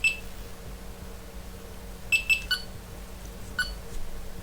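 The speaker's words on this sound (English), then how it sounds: "if I hold this button down and wait for a confirmation tone" A Delkim carp fishing bite alarm emits a few short electronic beeps and pips during multi-channel pairing, sparse and fairly faint over a quiet room hum.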